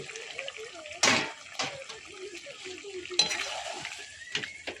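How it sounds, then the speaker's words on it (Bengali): Chicken stomach frying with ginger-garlic paste and green chilli is stirred in a pan, giving a steady sizzle broken by a few sharp scraping bursts, close and fairly quiet with faint voices nearby. "এবার অনেকক্ষণ কষতে হবে"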